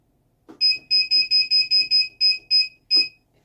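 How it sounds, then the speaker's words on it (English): A kitchen timer alarm beeps in a home kitchen, a rapid run of high, piercing electronic beeps in a steady rhythm, loud and close, with a short pause before the final beep. "and set the timer for 10 minutes."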